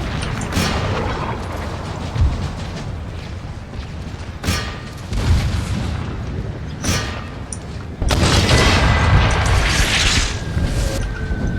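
Artillery and cannon fire in Empire Total War, repeated booms and musket-like cracks over a constant battle din, swelling into a denser, louder volley in the last few seconds.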